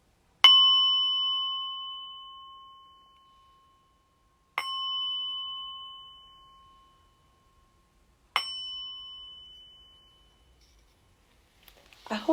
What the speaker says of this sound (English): We'll finish off that little part with the bell, just to make sure we're all here.